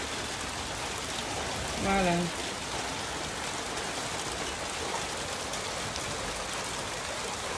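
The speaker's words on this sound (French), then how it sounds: "Là, il pleut." Rain falls outside as a steady dense hiss of drops, with a brief spoken word partway through.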